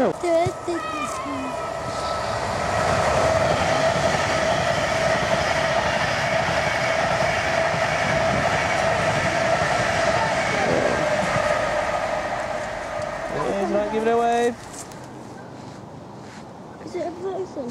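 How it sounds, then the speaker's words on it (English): Freight and passenger trains pass close by, a loud sustained rail rumble with clickety-clack and wheel squeal building over about twelve seconds, then cutting off abruptly to quieter surroundings; a voice speaks near the start. "No, freight, passenger going the other way, look at that."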